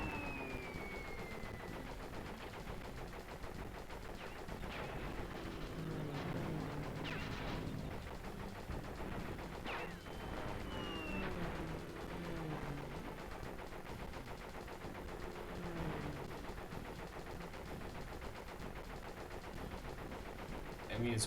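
Missiles fire in Crash Bandicoot 3 as a constant, quiet barrage of rapid shots and blasts under steady game noise, with a person talking over it throughout.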